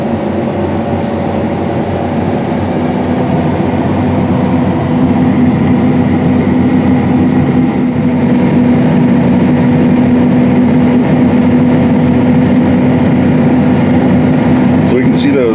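A 2019 John Deere S790 combine harvesting wheat with a 45 ft header: a loud, steady engine drone with a constant hum runs throughout while people talk over it.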